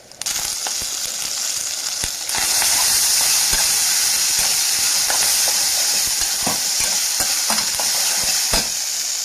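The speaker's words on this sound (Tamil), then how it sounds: "நம்ம வேக வச்சுருக்க சோளத்தை உள்ளே கொட்டிடலாம்" Boiled white sorghum fries and sizzles loudly in a pan, a steady dense hiss throughout with scattered scraping taps from stirring, close and without talk.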